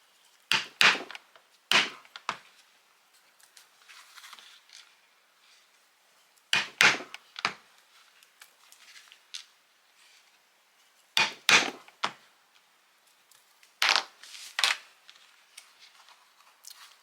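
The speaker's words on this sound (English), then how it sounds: "we're going to use our scratch awl in the marking that we had previously made to just knock our corner holes in" A scratch awl is knocked into marked corner holes in wood, giving clusters of sharp, dry taps and knocks, two or three hits at a time with pauses between, close and clear.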